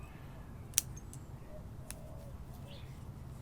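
Scissors cutting back bonsai stems on a shohin tree: one sharp, close snip followed by a fainter second click over a quiet background hum.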